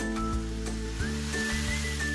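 Crêpe batter hitting a hot pan sizzles steadily and close, a bright crackling hiss with faint clinks, kitchen hum underneath and no talk.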